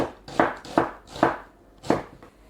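An onion roughly chopped into bigger chunks, four or five distinct knife thumps on a board at an uneven pace, close and clear with no talking.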